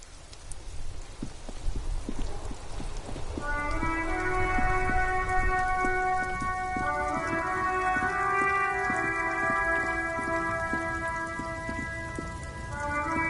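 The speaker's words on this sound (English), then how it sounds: "The rain falls. This rain will not let up anytime soon." Steady rain falls on the streets of Revachol in the video game Disco Elysium, a dense, even hiss of drops that continues throughout while sustained musical tones rise in partway through.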